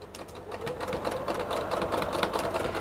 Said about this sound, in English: we're just going to top stitch that closed